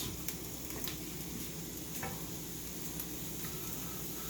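Julienned yellow onions, lightly salted and peppered, sizzle steadily in a pan as they cook down, a continuous soft crackle with a few faint clicks and no talking.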